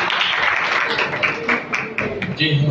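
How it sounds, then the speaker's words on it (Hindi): A group of Sunday school teachers applauds in a training session, a brief burst of clapping mixed with voices and room noise. "इसके लिए जोरदार तालियां बजाएं।"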